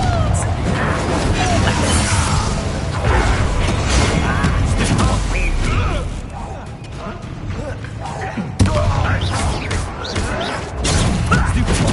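Confringo fire spells blasting in Hogwarts Legacy combat, loud booming crashes and impacts packed densely over a dense game soundtrack, with a sharp hit near the end and character voices shouting throughout.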